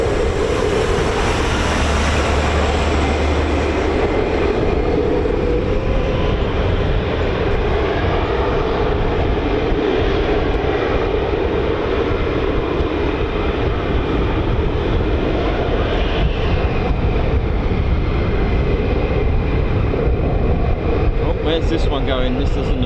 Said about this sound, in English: there are two aircraft based here, F-15E Strike Eagles and F-35A Lightnings.